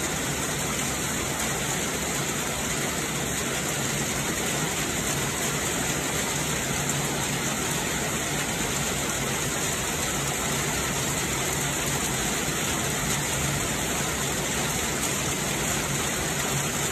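Heavy storm rain drums on a camping tent in a dense, unbroken roar that stays loud and steady throughout with no voices.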